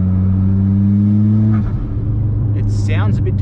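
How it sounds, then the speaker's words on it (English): A Mitsubishi Evo X engine with a new turbo hums steadily while accelerating, then a rising whistling whine comes in near the end as the turbo spools up at low boost. "It's a bit louder spool at really low boost as it's just starting to come on."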